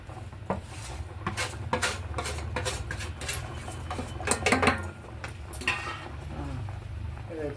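Semolina (rava) is stirred in a pan for Shivarathri sajjige, with a steady run of metal spoon scrapes and clinks against the pan, close and fairly loud, over a low rumble with no talking.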